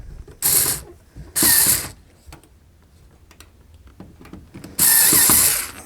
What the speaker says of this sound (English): Now we'll tighten these down.